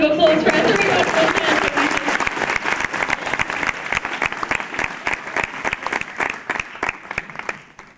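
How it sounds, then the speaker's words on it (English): An audience at a Movie World stage show breaks into applause, dense clapping at first that thins into scattered distinct claps, with someone talking at the start. "How about a big round of applause for our 3 wonderful"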